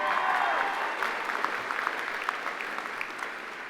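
A university convocation audience gives steady applause with scattered whoops and cheers, fairly loud and continuous throughout.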